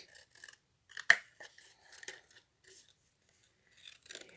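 Snipping and trimming close to the wood of a bird house: a sharp cutting snap near the middle, with scattered lighter rasping cuts before and after, close and fairly quiet.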